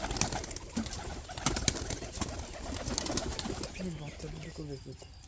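Pigeons leaving their house one by one, soft low cooing repeating near the close under a faint background hum, with a few sharp clicks and rustles along the way.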